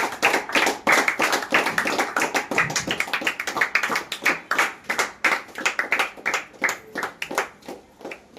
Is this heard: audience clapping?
yes